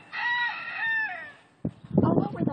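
A rooster gives one clear crowing call, then a burst of clucking and fowl noise follows, heard at moderate volume in a farm setting.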